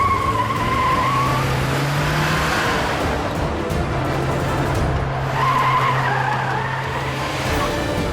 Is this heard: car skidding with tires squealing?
yes